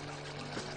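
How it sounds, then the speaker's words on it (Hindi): Water poured into a cooking pan, a brief steady pouring sound heard on its own. "100 मिलीलीटर पानी आप और पैन में डाल दें"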